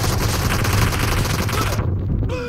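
Rapid bursts of gunfire from a gun in BGMI rattle loudly and close for about two seconds, then cut off abruptly, leaving a brief tail of quieter game sound.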